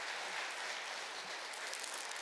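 Congregation applause during a Sunday worship service at a church, a dense, even wash of many hands clapping for the whole stretch with no talking.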